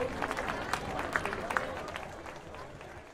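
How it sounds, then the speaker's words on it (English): Crowd applause for Hall of Fame inductees at a high school football game event, a scattered clapping wash heard at moderate distance with murmuring voices beneath. "Just give us one more round of applause for all of these inductees tonight"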